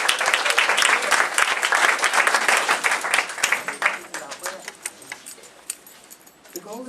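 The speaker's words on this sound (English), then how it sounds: "Let's give her a big round of applause" An audience claps for the MC at a public event on radio's impact. Dense, lively applause for about four seconds dwindles to scattered claps as a voice starts talking.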